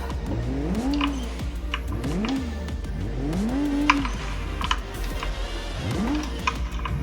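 Car driven in the video game BeamNG.drive, with an engine note that rises and falls through repeated revving and gear changes, plus occasional sharp clicks and taps over a constant low hum.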